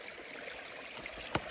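Stream water trickles softly along a trail in the Appalachian backcountry while being collected for a Sawyer purifier, a faint close burble with a sharp splash near the end.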